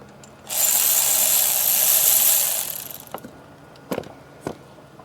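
A power tool, probably an impact or ratchet gun, loosens the first bolt of a high pressure fuel pump on an M276 Mercedes engine, giving a loud, close two-second burst of whirring, followed by a few light metallic clicks and clinks.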